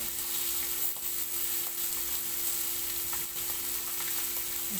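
Fish fries in a little oil in a pan over low gas, a steady, even sizzle and crackle holding at moderate loudness with a faint constant hum underneath.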